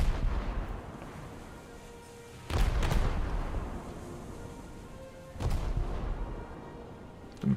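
Torpedo from a Mikuma cruiser striking a ship's belt in World of Warships: two deep, booming explosions a few seconds apart, each with a rumbling tail over a steady low engine drone, with no voices.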